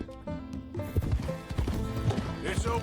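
Horse hooves clip-clop in Red Dead Redemption 2, a steady run of hoofbeats with a brief whinny-like note, set against game music and background sound.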